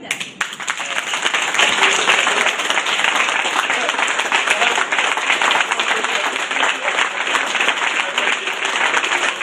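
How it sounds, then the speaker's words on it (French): Sustained audience applause, dense and steady, fills the whole stretch with many hands clapping at once, loud and close, with a few voices mixed faintly into the crowd noise. "On vous applaudit."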